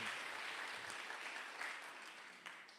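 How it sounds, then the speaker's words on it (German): An audience claps steadily in a dense, even wash of applause that slowly tapers, with no voices over it. "Een applaus voor deze."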